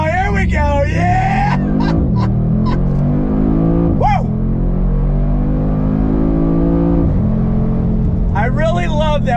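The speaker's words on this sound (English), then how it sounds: "I'm gonna come to a dead stop here and we're gonna do on throttle" A 2021 Mercedes-AMG G63 with a bi-turbo V8 pulls away from a standstill, heard loud from inside the cabin. The engine climbs through several rising gear sweeps with brief dips at the shifts and a final high rev run.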